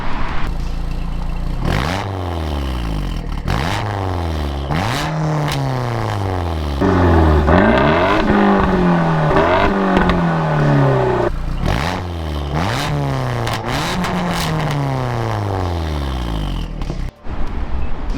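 Turbocharged Mazda ND Miata exhaust revving loudly and up close, with repeated rising and falling engine sweeps, several quick blips, and a longer climbing pull in the middle.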